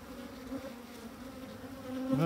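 Honeybees from a colony founded in 2021 buzz around an opened hive during a spring inspection, a steady droning hum throughout that swells louder near the end as bees fly close.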